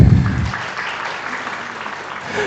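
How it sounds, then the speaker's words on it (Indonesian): An audience at an education talk show claps together, a dense burst of applause that starts loud and settles into a steady wash of hands. "Tepuk tangan dulu semuanya."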